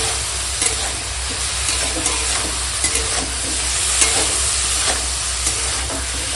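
Turmeric-coated vegetables being stir-fried with spices in a pan, a steady close sizzle with scattered scraping clicks of the spoon throughout, no voices.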